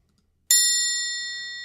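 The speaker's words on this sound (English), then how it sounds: "go into Ecamm and go sound effects and add a bell" A bell sound effect from Ecamm Live strikes once after a moment of silence, a bright clear ding that rings on and slowly fades.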